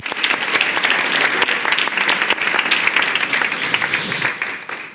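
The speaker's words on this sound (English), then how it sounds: "so a round of applause for him as well." Audience applause at a talk with author Adrian Tchaikovsky, a dense, steady wash of many hands clapping that fills the whole stretch and stays loud and even throughout.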